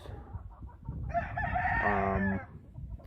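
A chicken crows loudly up close, a single drawn-out call rising over soft clucking and barnyard background noise.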